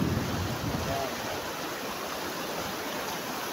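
Mountain river water rushing steadily, a dense continuous wash of flow close by, with faint talk at the very start.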